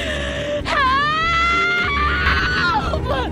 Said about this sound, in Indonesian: teriak histeris